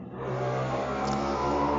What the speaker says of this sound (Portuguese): Deixa eu passar a moto